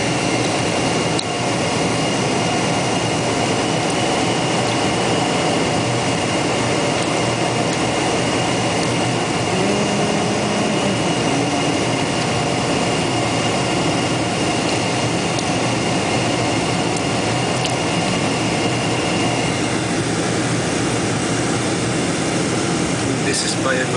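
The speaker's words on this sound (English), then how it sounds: "Okay, the plane is now landing." Steady, loud cabin roar of a Northwest Airlines Boeing 747-400 on final approach and landing at Honolulu International Airport, a continuous broadband rumble that holds unchanged for the whole stretch.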